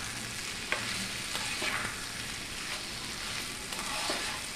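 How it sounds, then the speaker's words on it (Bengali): A brinjal mixture sizzles in a pan over a raised gas flame while it is stirred, giving a constant close hiss with occasional soft scrapes. "ভালো করে এটাকে একটু নেড়ে নিচ্ছি আমি"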